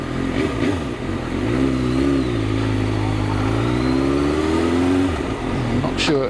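BMW F750GS motorcycle engine on a test ride, a continuous close engine drone that rises and holds as it accelerates, with wind noise and a rider's voice underneath.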